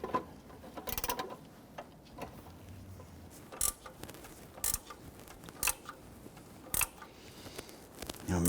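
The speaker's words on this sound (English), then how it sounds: "Now I want to try and tighten these evenly." Catalytic converter bolts on a 2005-2021 Nissan Frontier are tightened by hand, giving quiet, close ratcheting clicks in short bursts spaced about a second apart, with no voices.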